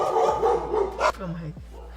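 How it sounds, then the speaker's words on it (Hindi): Dogs barking and yelping at night, fairly close, mixed with a voice talking over them in short bursts. "इसके पीछे सारे कुत्ते भौंकने लग गए।"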